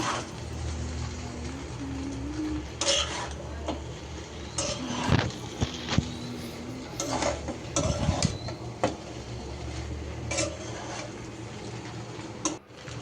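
Noodles with peas are stirred in a pan with a utensil, giving intermittent scraping and clinking against the metal, with a faint steady sizzle underneath.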